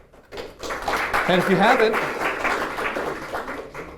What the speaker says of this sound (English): Let's give Sienna a round of applause.